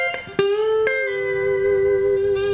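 An electric guitar plays a blues lick, with a few quick plucked notes that settle into a long, sustained bent note ringing out clearly with slight effects coloring.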